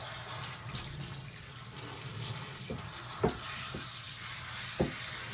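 Water runs and splashes over a dog being wet down during a bath, a soft continuous trickle with a few sharp knocks and splashes scattered through it, fairly faint and close.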